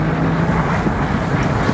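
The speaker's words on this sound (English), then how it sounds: "this one has some sort of German aftermarket exhaust system on it." A first-generation Porsche Boxster fitted with a German aftermarket exhaust drives along with a steady, low engine drone under heavy wind buffeting.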